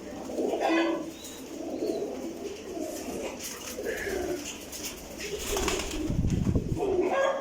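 Breeder pigeons coo softly in a home loft, a steady overlapping murmur of low throaty calls from several birds close by, with occasional louder coos.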